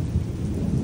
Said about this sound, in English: About to hear some loud thunder.